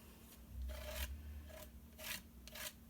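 Black shimmer paper being trimmed for scrapbooking gives four short, quiet rasping strokes in an uneven rhythm, close up, with no talking.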